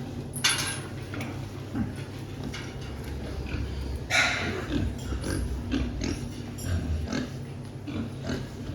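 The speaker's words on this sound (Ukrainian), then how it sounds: "Свинки наші зараз відпочивають, одні поїдають корм." Weaned pigs in a farm pen rest and feed, giving off scattered grunts and oinks with metallic clatter from the feeders, close and fairly loud throughout.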